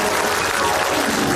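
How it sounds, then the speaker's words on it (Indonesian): A studio audience at the Indonesian comedy talk show Indonesia Lawak Klub claps for Komeng, a brief, loud, dense burst of applause with a washy crowd texture. "Tepuk tangan untuk Komeng."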